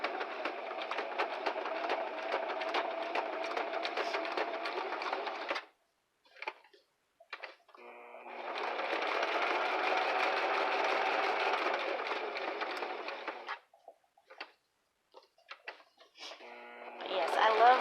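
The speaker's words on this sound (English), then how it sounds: "I'm starting on the tabs so that I can come back and sew over them again." A vintage sewing machine stitches tabs onto paper recipe cards in two steady whirring runs of several seconds each, close up. A short quiet gap with a few scattered small sounds separates them, and a brief burst follows at the end.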